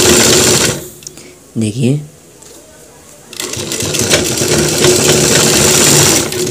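A sewing machine stitches the cross pocket of a pair of trousers, starting after a brief spoken word and a pause, then running in a loud, close, continuous mechanical whirr until the end.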